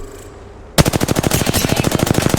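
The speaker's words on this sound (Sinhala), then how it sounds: "They're shooting." Rapid automatic gunfire in Apex Legends starts abruptly after a quiet moment, a loud, close burst of evenly spaced shots continuing steadily to the end.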